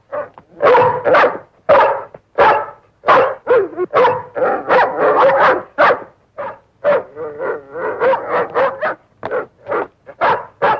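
A dog barks repeatedly in quick, loud bursts, close by, some barks breaking into yips and whines.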